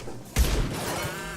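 A single heavy shotgun blast from the video game Mass Effect 2 hits suddenly and loud, with a booming low thud that rings out and decays over the following second.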